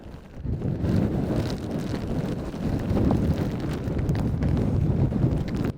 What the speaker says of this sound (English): Yeah, it's definitely got a wind.